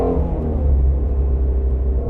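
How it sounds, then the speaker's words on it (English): A Ford Shelby GT350R with its flat-plane crank V8 revs up, a deep, loud, close rumble holding steady throughout with no talking over it. "This flat plane crank motor that Ford created is really unique, man. I mean, listen to this thing."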